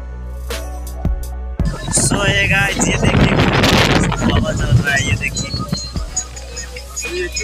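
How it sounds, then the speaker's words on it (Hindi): Wind blowing through village trees in Rautahat, Nepal, heard as loud, rough gusts buffeting the microphone and rising through the middle. A person talks over it. "ये देखिए गाछी पे हवा चल रहा है"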